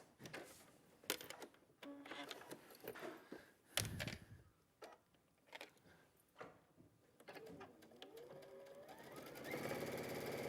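A sewing machine runs stitch by stitch along a bag seam, reverse-stitching back over it in short, quiet, stop-start bursts before settling into a steadier whir at the end.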